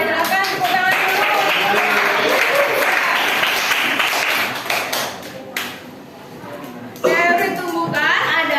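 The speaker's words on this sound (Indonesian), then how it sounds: "silakan tepuk tangan dulu" Classroom applause from students during a chemistry lesson, a busy burst of clapping with taps that fades out, then voices and further talk take over.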